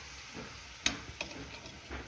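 Bacon marmalade with brown sugar and maple syrup is stirred in a pan, giving a soft sizzle with a couple of brief scraping clicks from the spoon, quiet and close with no talk.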